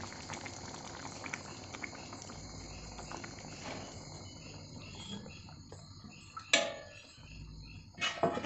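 A pot of Maharashtrian chicken rassa curry simmers on the stove, giving a steady, quiet bubbling with soft popping and a couple of sharper clinks near the end; no one speaks.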